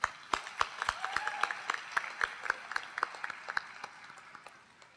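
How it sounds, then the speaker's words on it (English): Audience at a university mathematics commencement applauds award-winning teachers: a scattering of sharp, distinct hand claps that swells briefly, then thins and fades toward the end. "Big round of applause for all of them."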